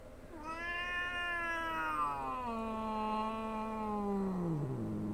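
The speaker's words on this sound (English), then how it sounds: "She's meowing at it, but she did hiss at it." A female cat yowls one long, drawn-out meow that bends downward in pitch at a stuffed toy cat, loud and close, with no talking over it.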